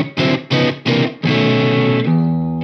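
Electric guitar through a single coil pickup, such as a Strat or Danelectro lipstick pickup, with a few loud strummed chords and then a longer ringing chord that rings out, overdriven and up close.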